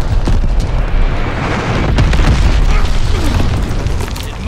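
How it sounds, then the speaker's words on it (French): A glide bomb strikes in Call of Duty Vanguard, and a heavy, rumbling explosion fills the whole stretch at close range and full volume, with crackling debris throughout. "L'ennemi a demandé une bombe planante."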